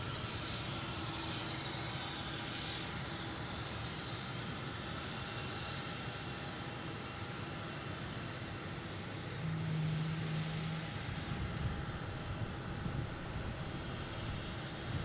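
A large airliner taking off from the runway at Boston Logan International Airport, a steady distant engine roar that swells slightly toward the end, heard alone outdoors.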